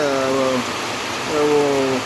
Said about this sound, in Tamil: இந்த மழை வந்து நமக்கு பயன்படும்